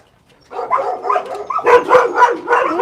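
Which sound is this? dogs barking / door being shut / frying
dogs barking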